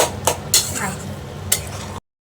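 Chicken vorta with garam masala being stirred in a pan, a spoon scraping and knocking against the metal three times in quick sharp hits over a soft sizzle.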